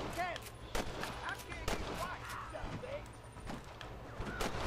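Gunfire in the Red Dead Redemption video game, several sharp shots scattered through a busy game soundscape with steady background rumble and occasional voices.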